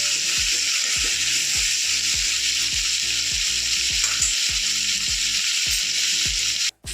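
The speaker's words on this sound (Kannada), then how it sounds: "ಒಂದು 5 ಒಣಮೆಣಸಿನಕಾಯಿ, ಒಂದು 5 ನಿಮಿಷ ಫ್ರೈ ಆಗಬೇಕು." Dry red chillies sizzle in a hot pan for ivy gourd chutney, a constant bright crackling hiss underlaid by a regular train of soft low ticks, ending with a brief sharp knock.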